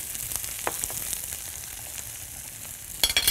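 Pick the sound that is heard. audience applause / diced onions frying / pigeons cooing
diced onions frying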